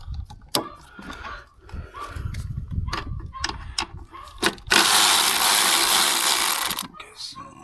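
Ratchet wrench working two 10 mm bolts loose, a series of short sharp clicks and scrapes up close, followed by a longer burst of broadband hiss and rattle.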